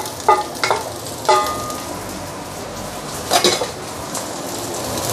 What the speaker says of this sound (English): Now we can actually add in the rice while the egg is still runny.